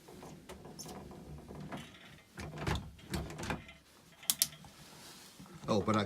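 Door latch mechanism on an RV being worked by hand, giving a run of clicking and clattering mechanical catches with a few sharp snaps near the end, with faint background noise.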